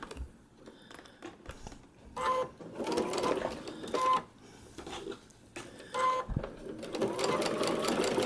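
A sewing machine stitches a paper-pieced quilt block in several short bursts of rapid mechanical whirring, broken by brief pauses and soft handling noises, close and fairly loud.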